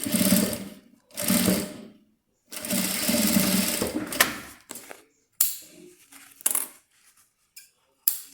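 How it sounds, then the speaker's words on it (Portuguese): A sewing machine stitching a shoulder bag runs in several short bursts of rapid mechanical chatter separated by pauses, followed by sharp clicks and clacks of handling, close-up with no talk. "E vou costurar. Dá retrocesso."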